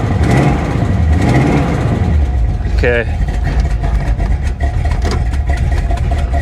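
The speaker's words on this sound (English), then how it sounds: "let's give it a couple revs and we'll shut her down" A 1985 Chevy El Camino SS V8 runs loud and close, rumbling at idle with a brief rev around the middle, while someone speaks a word over it.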